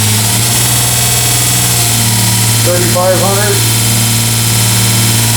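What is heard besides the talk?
1x30 belt grinder running at high RPM with Combat Abrasives belt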